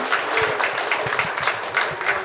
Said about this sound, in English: yes, a big round of applause for Dr. Portery.